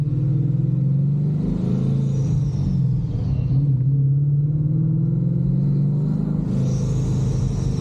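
A deep Paxton-supercharged 5.0 Ford Mustang V8 rumbles steadily at close range with the valves closed, its low drone wavering slightly with a faint high supercharger whine riding on top.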